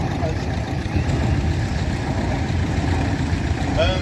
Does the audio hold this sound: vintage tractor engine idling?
yes